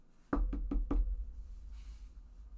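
Four quick, evenly spaced knocks on a closed door, close and solid, followed by a quiet room.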